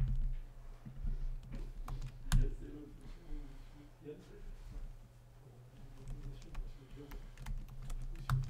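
Rapid, uneven clicking of computer keyboard keys while code is copied, close and fairly quiet, with someone talking intermittently over the tapping.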